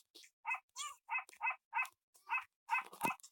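A person imitates a dog with a series of about eight short, rhythmic barking yips, close and fairly loud, each voiced bark evenly spaced with brief pauses between.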